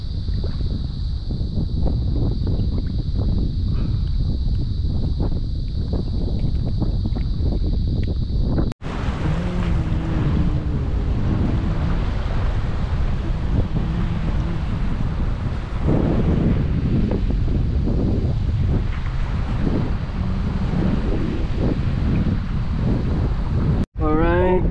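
Strong wind over the sea on a small fishing boat: loud, continuous buffeting roar against the microphone with splashing waves, and occasional voices talking beneath the gusts.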